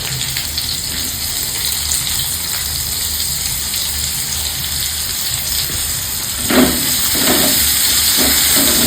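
Chopped onions drop into hot oil with browned garlic and burst into a louder sizzle partway through, over a steady broadband frying hiss that fills the whole stretch; no voices.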